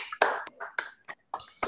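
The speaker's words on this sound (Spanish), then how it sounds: "Un aplauso." Scattered, uneven claps from online meeting participants, a handful of short, sharp hits at irregular intervals with brief gaps of silence between them.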